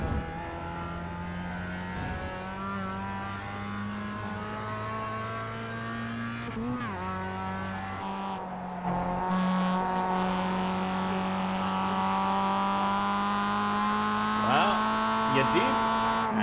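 Race car engine in the iRacing sim racing game on its final lap, a steady loud high-revving drone with shifting harmonic pitch throughout, briefly dipping and rising as the car changes gear, with a commentator talking over it.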